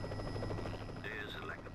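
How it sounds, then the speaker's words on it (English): A video game helicopter from Batman Begins drones with a steady low rotor rumble and a whine that shifts near the end, heard under someone talking, brief and close. "I'll hitch a ride once the helicopter's airborne"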